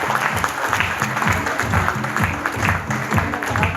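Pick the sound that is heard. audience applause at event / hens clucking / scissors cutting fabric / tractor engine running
audience applause at event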